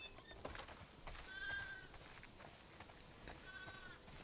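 Sheep in The Last of Us Part II video game bleat softly at a distance, two thin wavering calls rising over a quiet outdoor ambience with faint rustling.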